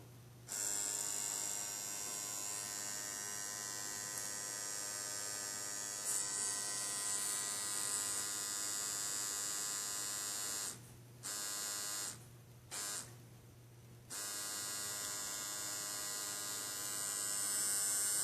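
A Bigwasp cartridge pen rotary tattoo machine runs steadily with a smooth, continuous electric buzz and hum, cutting out briefly a few times before resuming, with no talking.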